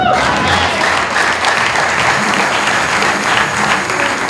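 A church congregation bursts into sustained, loud applause to acclaim God, dense clapping filling the room evenly from start to finish.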